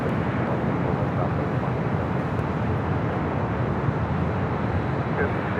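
Southwest Airlines Boeing 737-800 taking off from runway 24 Left at LAX, a steady broad jet roar that stays loud and constant throughout, with no break or fade.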